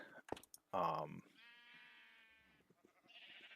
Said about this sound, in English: I will get the sheep in here